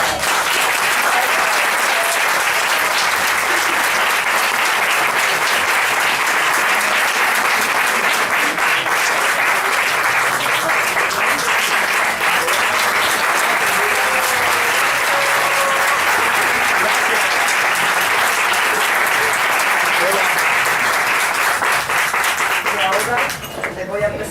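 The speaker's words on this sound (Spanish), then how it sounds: "Y un aplauso para..." A Miami book-launch audience breaks into sustained, loud applause for an introduced guest, Dr. Camilo Cruz, with dense, even clapping that holds for over twenty seconds before tapering at the end.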